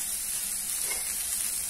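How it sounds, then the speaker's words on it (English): Broccoli sizzles steadily in a stir-fry pan, a dense continuous hiss that stays close and even throughout, with no talking. "After stirring it for 3 minutes,"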